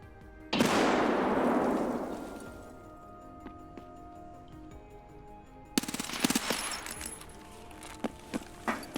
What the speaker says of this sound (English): This shooting is what I should have paid more attention to